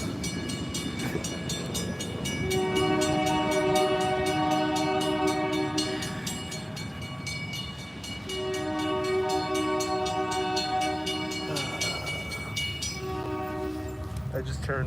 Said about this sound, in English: That's a short train though.